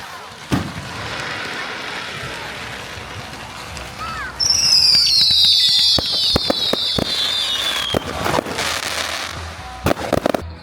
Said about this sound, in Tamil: எங்களுக்கு தலை மேலே வெடிச்சிட்டு இருக்குது வெடி